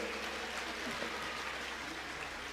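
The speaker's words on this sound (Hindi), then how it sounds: "तालियों से स्वागत कीजिए।" Audience applause at a Hindu religious discourse, a dense, steady wash of clapping from a crowd that holds evenly throughout without any talk.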